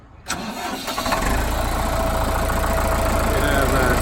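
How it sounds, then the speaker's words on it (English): A 2004 John Deere 5520 4x4 tractor with an 89-horsepower engine cranks briefly, catches and settles into a loud, steady diesel idle close by. "Go ahead and fire it up, Brent."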